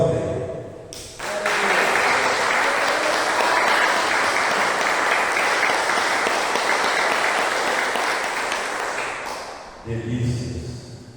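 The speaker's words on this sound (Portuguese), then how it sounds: "Aplaude." Church congregation applauding during a preacher's sermon, a sustained roar of clapping that swells in after a brief lead-in, holds full and steady for about eight seconds, then cuts off into quieter sounds at the end.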